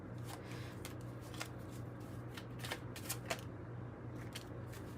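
Tarot cards are shuffled by hand in repeated quick riffling bursts, soft and close, with light snapping flicks over a faint steady hum and no talking.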